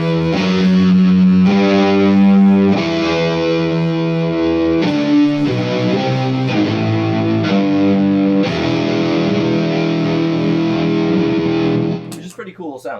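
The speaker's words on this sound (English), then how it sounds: "and then I use the octave down." Electric guitar through an octave-down pedal on a live pedalboard setup, distorted and thick with doubled low tones, a sustained run of loud chords and notes that cuts off abruptly near the end.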